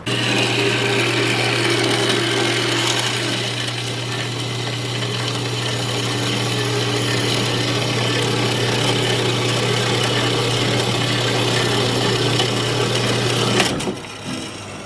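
A power saw cuts metal tubing at an angle in a fabrication shop, a loud steady grinding whine with a low hum running for nearly the whole stretch before stopping abruptly near the end.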